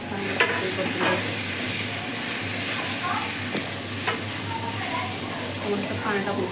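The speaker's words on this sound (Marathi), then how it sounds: "चांगलं परतून घ्यायचं." Pav bhaji masala, two spoons of red chili and butter being sautéed in a pan, giving a steady sizzle with occasional stirring scrapes throughout, loud and continuous with no talk.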